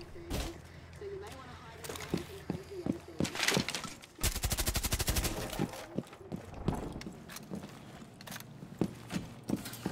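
Gunfire in Rainbow Six Siege: scattered single shots crack sharply, then a rapid automatic burst runs for about a second, with more separate shots and footstep-like thuds afterward and occasional talk.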